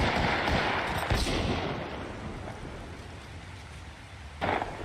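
Gunfire in the Apex Legends battle royale shooter: a dense wash of rapid shots and impacts, loud and continuous, with a few sharper bursts standing out, including one near the end.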